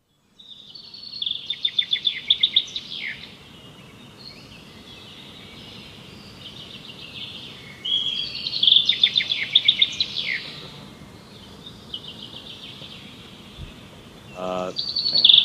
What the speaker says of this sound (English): We can use this bird sound file.